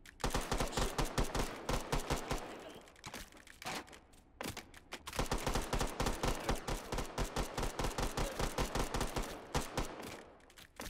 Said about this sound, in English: They love investigating gunshots.